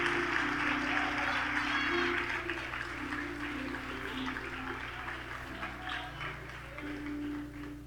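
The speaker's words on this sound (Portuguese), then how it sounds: "Você pode aplaudir a Ele por um instante?" A congregation applauds during a church service, a soft, diffuse patter of clapping that starts fuller and gradually thins out, heard at a distance under a low hum.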